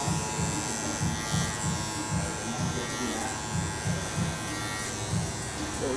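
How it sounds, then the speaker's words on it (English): Electric hair clippers buzz steadily up close while cutting a fade after the removal of long-grown dreadlocks, with a soft pulsing rhythm as the blades pass through the hair and quiet speech in the background. "I'm gonna take a 6 and start kind of flicking out a little bit, create a little bit of a fade"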